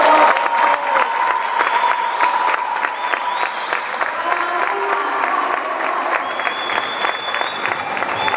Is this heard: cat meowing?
no